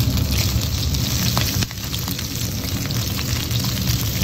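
Shrimp frying in hot oil with garlic in a pan, a steady dense sizzle and crackle, close and fairly loud, with a brief dip partway through.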